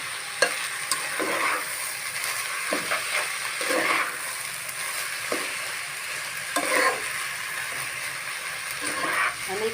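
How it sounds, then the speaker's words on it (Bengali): Rice fries in a pot for tehari, giving a continuous soft sizzle with periodic scraping and stirring strokes, close up, at a moderate level. "চালগুলো একটু সময় নিয়ে ভেজে নেব"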